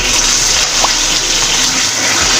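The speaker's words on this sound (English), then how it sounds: "65 milliliters of warm water" Warm water is poured into melted sugar in a pan while caramel is being made. A steady, loud rushing gush continues evenly for the whole stretch, close and alone.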